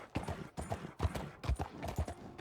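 Horse hooves clip-clop along the ground in Red Dead Redemption 2, a steady walking rhythm of about five paired thuds, close but quiet, with no talk over them.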